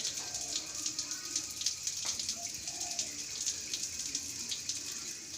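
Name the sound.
tap water running while a child washes glasses and bowls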